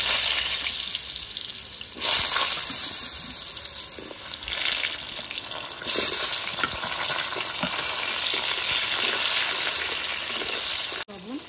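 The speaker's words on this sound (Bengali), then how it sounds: "এখন আমি যে পিস পিস করে কেটে রাখা আলুগুলা ভেজে নেব।" Potato pieces fry in hot oil, a loud, steady sizzle and hiss with scraping stir sounds and brief surges as pieces are moved, running throughout without voices.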